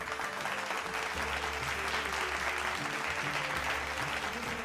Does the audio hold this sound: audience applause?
yes